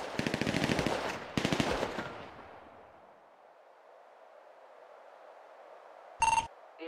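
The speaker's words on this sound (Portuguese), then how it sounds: "Só vou dar um tiro pra assustar aqui" Two rapid bursts of automatic video-game gunfire, then a fading echoing tail and a brief electronic chime near the end.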